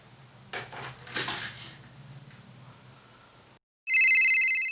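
After some soft shuffling and clunks, a sudden loud electronic telephone ring tone sounds close by, a bright repeating trill with no talking over it.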